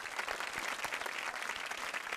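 Studio audience applause on a Vietnamese TV dating show, steady dense clapping throughout at moderate level with no voices over it.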